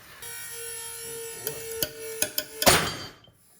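A Mammut Dyneema climbing sling is loaded in a pull test, with a steady mechanical hum punctuated by several sharp creaks and snaps building to a loud bursting break, then fading quiet.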